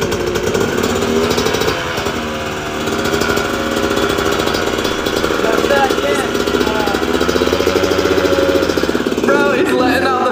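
An 85cc dirt bike engine running, a loud, steady buzzing drone held close for several seconds with a brief dip, then a rougher burst at the end.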